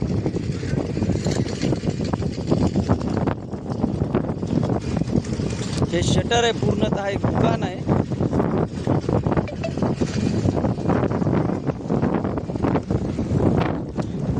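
Strong gusting wind roars steadily over a roadside scene after a storm tore a shop's metal shutter loose and flung it onto the main road, with rain beginning; someone talks throughout over the constant windy rumble.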